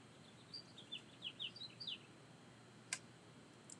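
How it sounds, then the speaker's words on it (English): Small birds nesting outside a window give a quick series of thin, high chirps, then a couple of sharper isolated tweets, faint against a quiet indoor background. "Little bird noise? That's my new little friend, the little couple that's nesting outside my window."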